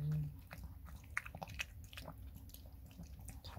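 A small dog eats samgyetang chicken soup with wet, soft chewing and biting sounds, close and fairly quiet, as a person speaks softly now and then.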